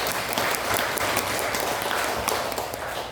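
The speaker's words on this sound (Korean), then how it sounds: "우리 환영의 박수 한번 하겠습니다." A church congregation claps in welcoming applause during a Sunday service, a dense, steady round of many hands that fills the room evenly for the whole stretch.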